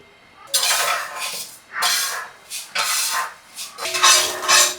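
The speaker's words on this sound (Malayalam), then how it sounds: "ആ നമ്മൾ ഉഴുന്ന് വറുത്ത് കോരാൻ പോവാട്ടോ" Roasted urad dal being scooped from a hot pan with a metal utensil for homemade pickle, a series of close, bright scraping and clinking strokes in irregular bursts with short pauses between them.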